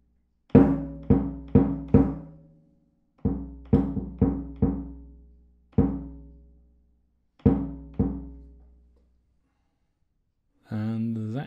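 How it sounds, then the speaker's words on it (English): A bass drum pedal on a modified DiMavery cocktail drum kit kicks out deep, booming thumps, close and resonant, in short bursts of three or four with pauses between them, followed briefly by a voice at the end. "Here's the bass drum pedal,"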